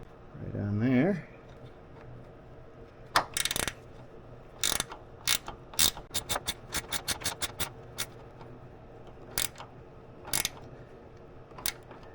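Ratchet tightening a bolt down on LED light wiring connectors during an off-road light pod install on a Jeep, heard as a run of sharp, quick clicks in short bursts, fairly close, after a brief voice at the start.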